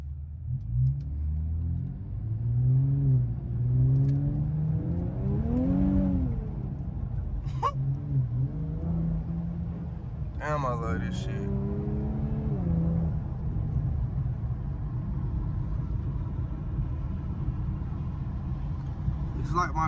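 Infiniti Q50 Red Sport car on the road, a steady low engine rumble and road drone heard from inside the cabin, with people talking throughout over the hum.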